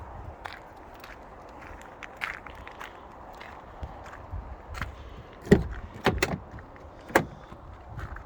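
A locking wheel nut key rattles loose inside a door of a 2007 Range Rover Sport 4.2 Supercharged, giving scattered sharp clicks and clunks with a few louder knocks near the end over quiet background.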